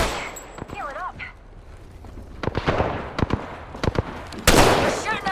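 Gunfire in the video game Apex Legends: a few scattered sharp shots, then a quicker burst of cracks near the end, close and punchy, with a voice talking over the early part.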